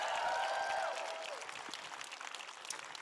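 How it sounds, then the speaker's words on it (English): A crowd applauds steadily at an early-vote political rally for Tim Kaine at the University of Florida in Gainesville, with a brief tonal cheer or whistle at the start before the applause eases to a softer, even patter. "So give Bill another big round of applause."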